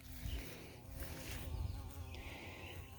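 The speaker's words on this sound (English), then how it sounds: "the bees have took over" Bees buzz steadily around a garden arch covered in climbing plants, a close, continuous insect drone with faint outdoor background sound throughout.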